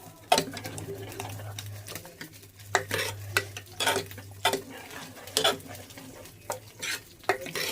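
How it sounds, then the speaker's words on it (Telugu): A spoon stirs salt through thick cooked lentils with tamarind leaves in a pot, irregular clinks and scrapes close by, with a steady low hum underneath. "కాస్త ఉప్పు వేసి కలుపుతున్నాను"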